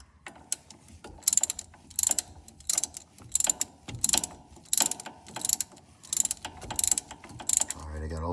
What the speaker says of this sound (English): All right, I got all 4 of those bolts torqued to spec.